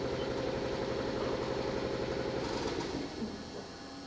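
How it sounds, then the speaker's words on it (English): An air compressor on a Haas VF6/40 vertical machining center runs with a steady, close mechanical hum, then winds down and quiets near the end. "Now the air compressor stopped."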